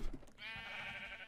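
Sheep bleat in a farming survival video game, one short quavering bleat sounding close and clear against a quiet background.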